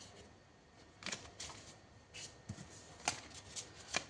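Tarot cards shuffled by hand, several quick riffling bursts and soft slaps at irregular intervals, close but quiet in a still room, no talking.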